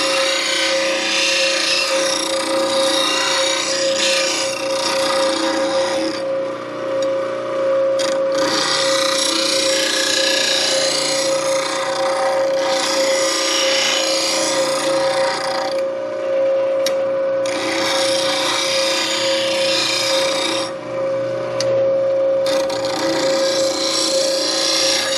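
A bench grinder hums steadily while a woodturning tool, shaped to a standard English grind, rasps against the wheel at the tool rest in long repeated passes, loud and close with brief pauses.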